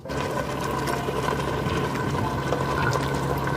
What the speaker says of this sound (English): 2 cups of the non-dairy milk